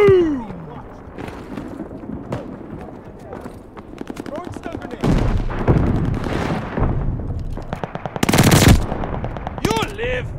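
MG 42 machine gun firing in Call of Duty Vanguard multiplayer, loud rapid bursts of gunfire with explosions and other battle noise, under game voice callouts and player talk.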